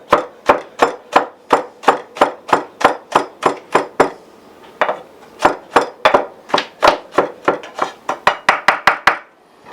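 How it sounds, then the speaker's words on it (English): A knife roughly chopping garlic on a cutting board, sharp even strikes in a steady run, a short pause midway, then quicker chops resuming, close and loud with no talking. "give this garlic a rough chop"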